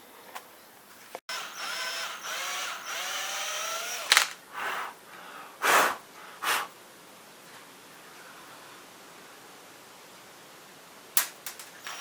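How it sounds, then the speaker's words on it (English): A few short bursts of a small power drill boring small holes in a fishing lure, each lasting under a second, separated by quiet handling sounds and a faint background hum. "I'll mark some holes and drill them in"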